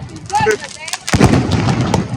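A sharp firecracker bang bursts out loud and close during Diwali celebrations, followed by crackling noise, after a brief whistling sound.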